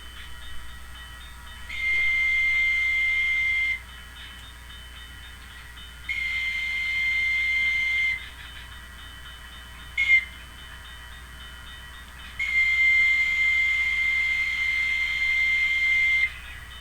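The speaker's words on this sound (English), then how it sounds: "you can hear the clickety-clack, you can hear the sound of the air whistle being played by the conductor" Air whistle on a model railway sound car blows a grade crossing sequence: four steady high tones, two long, one short burst, then a final long blast, alone over a faint low running hum with no clickety-clack evident.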